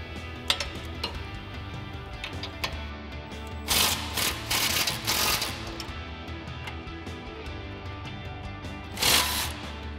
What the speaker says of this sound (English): we'll take our 15mm socket and an extension on our impact and loosen up the two bolts on the bracket